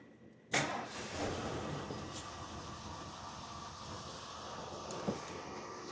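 An old Ford LTD, abandoned for 28 years, cranks briefly while trying to start. A sudden loud mechanical jolt gives way to a steady, even rumble, with no voices.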